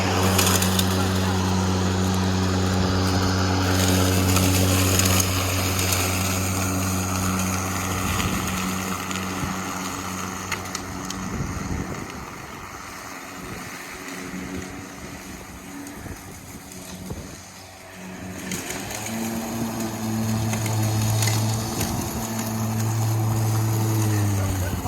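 A battery-powered Milwaukee M18 lawn mower runs with a loud, steady motor drone as it pushes through cutting, the load dipping and surging midway, with someone talking over it.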